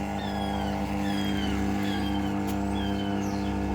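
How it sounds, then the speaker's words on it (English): An inflatable Cleverspa Monte Carlo hot tub pump struggles against a blocked filter: a steady mechanical hum with strong low tones drones continuously, a strained motor-like whine with faint higher chirps riding over it. "the sound you're hearing is because the filter is getting blocked and the pump is struggling"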